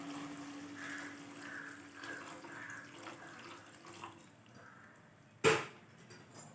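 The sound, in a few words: water being poured into a cooking pot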